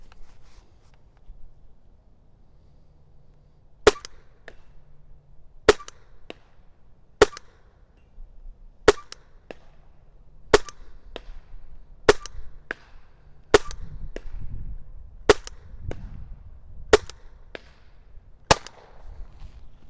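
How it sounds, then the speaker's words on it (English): A PepperBall VKS launcher fires about a dozen sharp, loud shots at fairly even intervals of one to two seconds, with quiet outdoor background between them and no talk. "Let's do 9 more shots and then wrap this video up."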